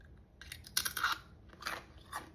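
Close, crisp crunches of someone chewing caramel candied Cheez-It crackers, several bites and grinding chews in quick succession with quiet gaps between.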